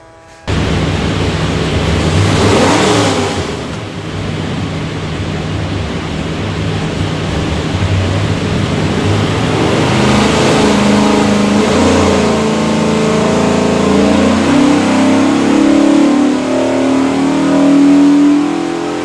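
A 427ci small block Ford V8 built for a Factory Five Racing Cobra MK3 roars steadily on a dyno, with a loud sustained engine tone whose pitch climbs as it revs through a full pull, close up and with no talk.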